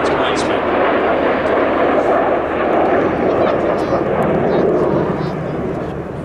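Red Arrows jets performing an airshow display trailing smoke, a loud sustained roar of jet engines swelling and fading slightly as they pass overhead.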